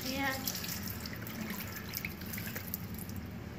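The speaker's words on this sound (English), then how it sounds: "And you turn on the hot water and cold water. Now wash your hands." Water runs from a sink tap in a store bathroom during handwashing, a steady soft hiss of flow throughout with faint splashes, while people talk nearby.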